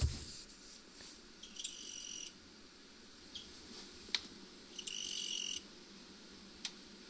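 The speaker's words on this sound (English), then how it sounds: "Hey, we can hear the cricket." Cricket chirping faintly indoors, a few short scattered chirps over quiet background hiss.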